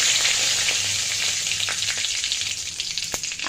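Curry leaves hit hot oil with cumin and mustard seeds, giving a loud steady sizzle with scattered pops and crackles, close and continuous with no voices.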